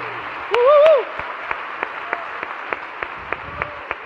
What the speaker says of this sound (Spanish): ¡Un aplauso bien fuerte!